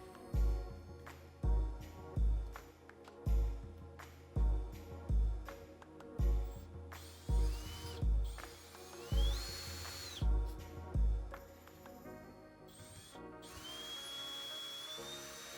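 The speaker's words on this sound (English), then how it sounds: "You can remove these with a regular number 2 Phillips screwdriver or with a drill or impact driver like I am" A cordless impact driver backs out the screws holding a doorknob latch plate, with a rapid series of about a dozen short, loud ratcheting bursts in an even rhythm, then a steadier whirring spin near the end.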